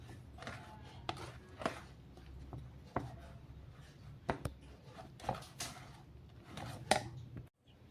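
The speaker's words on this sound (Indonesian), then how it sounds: "Aduk sambil kita tekan-tekan supaya gampang berderai." Hot kue putu rice flour mixture stirred and pressed by hand, giving a run of quiet, scattered scrapes and taps close by at an uneven rhythm.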